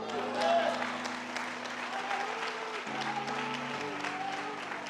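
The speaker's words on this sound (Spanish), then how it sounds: "Denle otro aplauso al Señor" Applause from a church congregation during a worship service, broad and steady across the room, mixed with sustained organ or keyboard tones and voices underneath.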